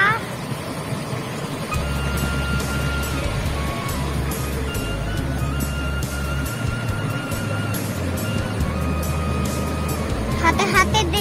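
A large diesel engine rumbles steadily nearby as a Family Raya intercity bus pulls away toward Jogja and Solo, with people talking faintly in the background and a few clicks near the end.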